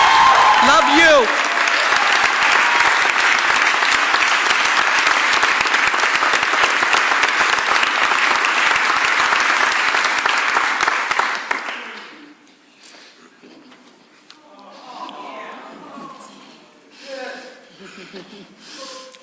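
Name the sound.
audience applause at a press conference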